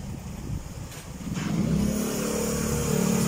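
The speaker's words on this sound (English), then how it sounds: "There's a lot of motorcycles outside" Motorcycles and other traffic pass outside a second-floor room, a steady mid-pitched engine drone that swells and holds loud throughout, with no talking.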